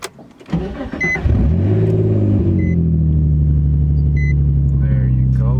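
A Nissan 350Z engine on a second start attempt after stalling in first gear: a brief cranking whir, then the engine catches and settles into a loud, steady low idle rumble close by, with a few light clicks.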